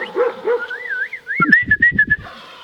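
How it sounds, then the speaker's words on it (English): A person whistles a wavering, trilling family call to summon a dog outdoors by the water, and the dog answers with several short barks and whimpers close by. "he knows the family whistle too"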